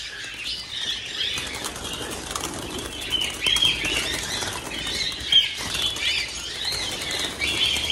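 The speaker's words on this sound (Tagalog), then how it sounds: "So yan mga kaibon." Pigeons or doves flapping their wings in a loft, a steady flurry of fluttering wingbeats throughout with occasional faint chirps, close and continuous, with no talk.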